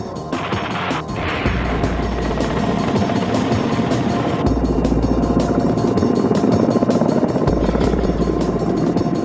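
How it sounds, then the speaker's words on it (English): A Ka-29 assault transport helicopter, loud and close, its engine and rotor churning in a continuous heavy roar with rhythmic blade thumps throughout. "The Ka-29 assault transportation helicopter was designed for the relocation of Marines."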